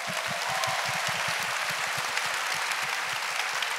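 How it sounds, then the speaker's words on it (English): A conference audience at FiLiA 2022 claps together in a steady burst of applause, the individual claps packed tightly and sustained at an even level throughout. "Give yourselves a big round of applause."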